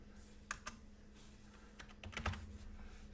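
Computer keyboard typing with scattered keystrokes and short bursts of clicks, fairly close, over a steady low hum, with no one talking.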